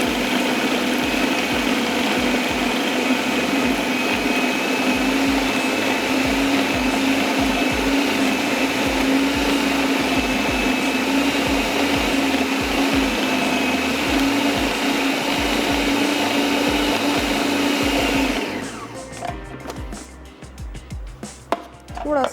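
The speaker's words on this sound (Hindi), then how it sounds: "थोड़ा सा इसको और हम पीस लेंगे ताकि स्पेशली जो प्याज के चंक्स हैं वो बहुत अच्छे से चॉप हो जाएं" A food processor grinds a patty mixture with onion chunks in a steady, loud, continuous whir with a rattling chop, running for about eighteen seconds before abruptly stopping.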